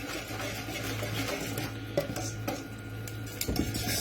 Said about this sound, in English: Whisking all the time, otherwise it'll form lumps inside.